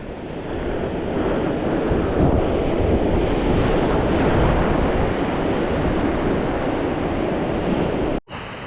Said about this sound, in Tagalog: Laki ng alon, lakas na kaya, may ulan pa.